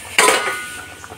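A cooking pot of curry clattering as it is stirred and lifted off the stove, one sharp metallic clank followed by a fading ring and a light knock, close and loud.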